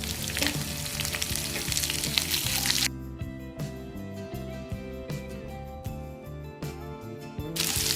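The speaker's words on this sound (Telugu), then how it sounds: "ఉల్లిపాయలు మరీ ఎర్రగా వేయించకూడదండి" Sliced onions fry in a pan for gongura rice, a loud, close, crackling sizzle that drops to a quieter bubbling fry partway through, then swells again, with light clatter of stirring.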